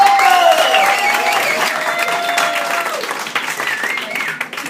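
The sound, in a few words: audience applause for winner Tina Walker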